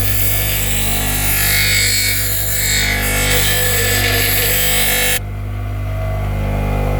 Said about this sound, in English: I'm gonna test it out on my EDC knife.